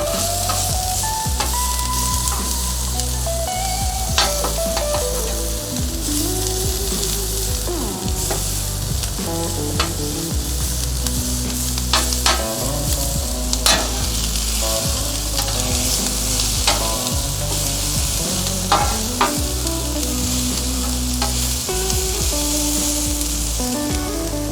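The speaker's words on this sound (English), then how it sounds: "Let's dump our peppers over here on this side. Get them cranked off." Peppers and onions frying in oil on a flat-top griddle for a chicken cheesesteak, a loud, dense sizzle with frequent metal spatula scrapes and clanks, close up and with no talking.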